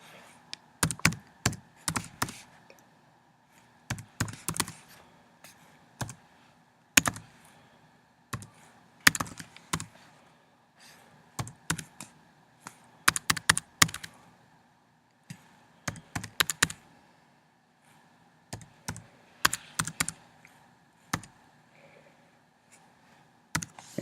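Computer keyboard typing a DOI, bursts of quick, close clicking keystrokes separated by short pauses, with no voice.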